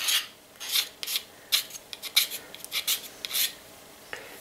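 A scraper rasps filler out of the seams of a jig in short, irregular strokes, each a close, gritty scrape separated by brief pauses.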